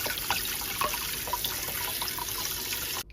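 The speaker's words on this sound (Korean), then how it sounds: "바로 찬물 샤워 시켜주세요." Blanched tomatoes rinsed under cold running water from a tap, a steady close splashing and trickling that runs without pause for about three seconds, then cuts off abruptly.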